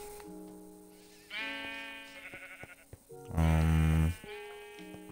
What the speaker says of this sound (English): I got my group of rainbow sheep.